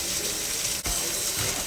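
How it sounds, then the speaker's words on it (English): Cold water runs steadily from a kitchen tap over freshly cooked chowmein noodles, a close, continuous gushing splash with one brief dip. "I'm just gonna run some cold water over it to stop the cooking process."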